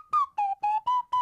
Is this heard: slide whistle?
yes